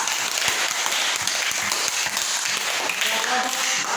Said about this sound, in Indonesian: tepuk tangan untuk kelompok panda